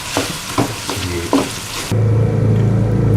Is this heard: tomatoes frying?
yes